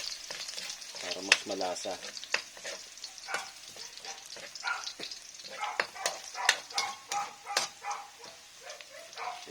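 Garlic sizzling and crackling in hot oil in a pan, close and fairly loud, with irregular pops and bursts of spattering as it is stirred, plus a brief low voice.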